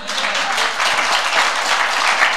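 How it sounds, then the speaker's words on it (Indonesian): A church congregation breaks into sustained, dense applause, loud and close, filling the whole moment without any voices on top. "Beri tepuk tangan."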